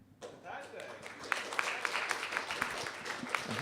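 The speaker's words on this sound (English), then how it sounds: "Extra applause for finishing" Applause from a conference audience after a short physics lightning talk, rising after a brief quiet start into a moderate spread of clapping with a few sharper individual claps standing out.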